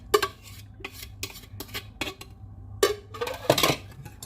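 A wire whisk clinks and scrapes against a pan of thickening pastry cream for a fruit tart on medium heat, in short separate bursts with brief pauses between strokes.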